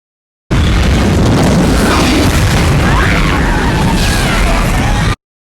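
A loud, sustained movie explosion from Starship Troopers (1997), a roar with rumbling booms and crackling bursts, filling several seconds at full intensity before cutting off.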